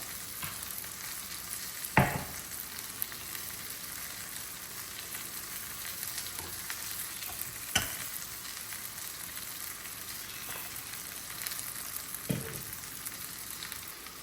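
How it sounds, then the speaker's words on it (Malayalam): Onion and green chilli fry in hot coconut oil for a Kerala-style pearl spot masala, giving a steady, close sizzling hiss with a few sharp utensil clicks and stirring scrapes scattered throughout. "എണ്ണ ചൂടായി ഇതിലേക്ക് ഉള്ളി, പച്ചമുളക് ഇട്ട് കൊടുക്കാം."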